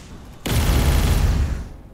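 A sudden burst of fire bullets being shot in the Roblox game Blox Fruits, a loud dense roaring blast that sustains for over a second before tapering off, with no voices.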